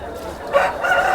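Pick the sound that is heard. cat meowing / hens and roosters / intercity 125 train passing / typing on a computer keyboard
hens and roosters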